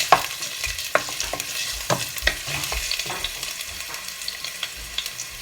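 Onions, garlic and ginger frying in a pan for tinolang manok, a soft steady sizzle broken by repeated scraping clatters of a utensil stirring against the pan.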